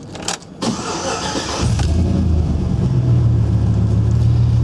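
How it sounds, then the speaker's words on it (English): A GMC Sierra 1500 Custom pickup truck engine cranks briefly, fires up and settles into a steady, close idle. "We'll fire it off and let you listen to it."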